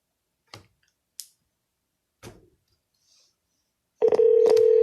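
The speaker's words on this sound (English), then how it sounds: "let me get to my dial box, put the phone number in, get the dialer going" A few sparse clicks from a computer-based phone auto-dialer are followed by a sudden steady electronic dialing tone that holds loud and constant to the end.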